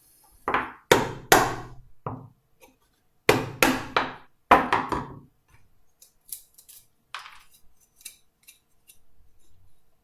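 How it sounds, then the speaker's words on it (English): Sharp chisel taps knocking waste wood from a toy train joint, several hard close strikes in quick clusters, followed by fainter scraping and small knocks. "If not, we just give it another tap of the chisel."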